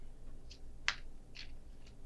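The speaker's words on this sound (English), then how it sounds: "I need to shuffle some more." Soft papery riffling of tarot cards in a few brief bursts, one sharper snap of cards in the middle, quiet and close with no talking.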